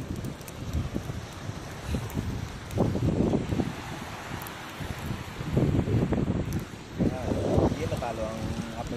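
Strong gusts of wind batter a beach campfire by the sea, with roaring, buffeting surges that rise and fall while people talk nearby.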